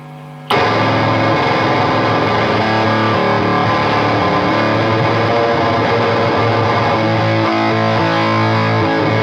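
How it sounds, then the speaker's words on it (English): A Chapman ML3 Pro Triton electric guitar played through a fuzz effect bursts in loud after a brief silence, then rings on with thick, saturated sustained chords and no voice. "And now here's some fuzz."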